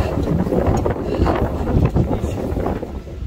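Steady wind buffeting the microphone with a low rumble, constant and fairly loud throughout, no clear voices.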